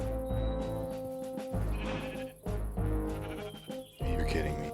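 Sheep in a Minecraft game bleat repeatedly, several wavering calls in a row, loud and close, with short gaps between them and no talk over them.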